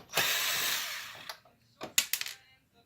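A few screws are backed out of the bottom tray of an HP Officejet 4620 printer with a powered driver: a loud, close whirring burst of about a second, then a pause and a quick series of sharp clicks and rattles.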